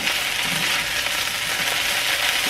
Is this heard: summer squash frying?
yes